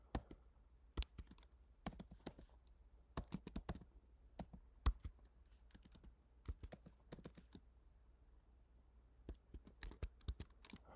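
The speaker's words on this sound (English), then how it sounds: "and I'll put a password in there, and I'll put another password in there just to confirm" A computer keyboard is typed on in quick irregular bursts of soft clicks with short pauses between groups, close and quiet, while a password is entered while setting up an Azure virtual machine.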